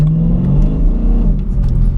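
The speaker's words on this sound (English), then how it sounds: "They sound just epic V8 rumble noises." BMW E92 M3 V8 engine revving, a loud, close, deep rumble with a rising and falling pitch throughout, no talking.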